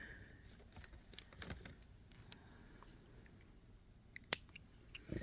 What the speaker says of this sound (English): So we'll cut our wire loose right here.